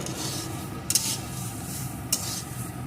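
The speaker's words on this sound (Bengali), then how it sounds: "এবার চালগুলোকে এইভাবে নেড়ে নেড়ে একদম শুকিয়ে নেব" Rice grains are stirred in a dry pan on a gas stove to make puffed rice, giving a close, dry rustling and scraping under a gas hiss, with two sharper scrapes standing out.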